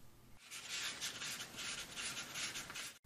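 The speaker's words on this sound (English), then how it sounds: "Finish it off with ultra-fine sandpaper or emery paper." Ultra-fine sandpaper or emery paper rubbing a pool cue tip in continuous close rasping strokes, quiet and even, with a brief pause near the end and no voices.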